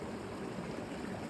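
Creek water flowing steadily at Holcomb Creek, a broad, even rush of running water close by, soft and continuous with no voices.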